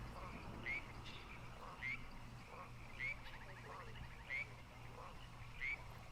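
Frog croaking in a zoo-building video game, five short evenly spaced calls about a second apart over a low steady background hum.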